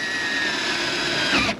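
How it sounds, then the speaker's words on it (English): A steady, loud power drill whine runs continuously as it bores holes for the bolsters on a 25ft Parker SE boat under restoration, then cuts off abruptly at the end. "Drilling some holes for your bolsters, making sure they can just bolt right up"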